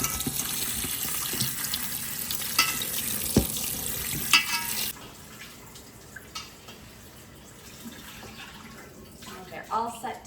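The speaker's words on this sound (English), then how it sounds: "Now we're just going to give these berries a nice rinse." Blackberries rinsed under running tap water in a kitchen sink, a steady splashing stream with scattered clicks and drips, louder for the first half and then softer and quieter as the water eases off.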